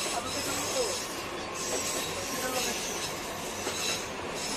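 Train coaches roll steadily with passengers on board, heard as a constant rumbling wheel-and-rail drone with faint squealing, captured from inside a carriage.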